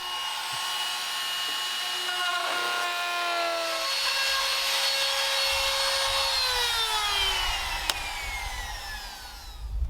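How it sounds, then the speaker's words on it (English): A palm trim router fitted with a pattern bit trims cedar shingles on a cabin, giving a loud, close, continuous high whine whose pitch slides down as it cuts, with a sharp click near the end. "So we got a palm router, trim router with a pattern bit"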